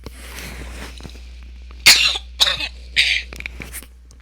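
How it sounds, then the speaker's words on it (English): A handful of harsh, close coughs in quick succession, separated by short pauses, loud against a quiet background. "Hold on a second here. I got a cough."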